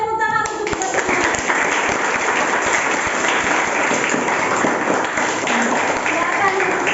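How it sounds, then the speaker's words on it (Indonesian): Students clapping together in a classroom before a debate, a loud, dense burst of applause running throughout, with a short sung or spoken voice at the very start and some chatter mixed in. "Oke, tepuk tangan untuk kita semua."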